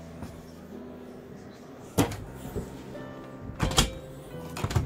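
A refrigerator door in a Frankia I 8400 Plus Platin motorhome opens and closes, giving a few sharp thunks and latch knocks, with a louder pair near the end, over a quiet interior background.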